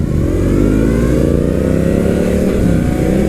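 A 2001-era BMW R1100RT shaft-drive sport touring motorcycle engine heard while riding, a loud, smooth, steady mid-pitched drone with slight rises in revs throughout and no talking.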